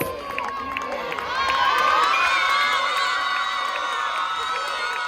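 A crowd at the closing ceremony of the Pièces jaunes 2022 charity event in Nice cheers and whoops loudly for Didier Deschamps, the roar swelling after the first second and holding steady, with children's shouts mixed in.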